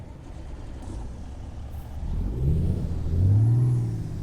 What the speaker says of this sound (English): And fire it up again.